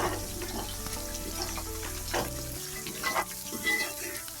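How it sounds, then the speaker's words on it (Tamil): Green chillies, tomato, onion, garlic and ginger sauté in a pan for a beef curry, a steady close sizzle broken by the scrape and clatter of stirring. "இது நல்லா வதங்கி வரணும்."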